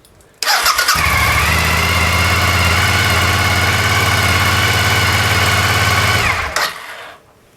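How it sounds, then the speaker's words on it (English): A motorcycle running on a DIY LiFePO4 lithium iron phosphate battery with BMS starts up abruptly, idles loudly and steadily for about six seconds, then shuts off and fades. "So let's turn the ignition on."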